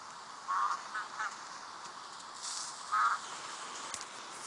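Ducks in the blocky survival game Survivalcraft give two short, fairly quiet quacks a few seconds apart over a soft, steady background hiss.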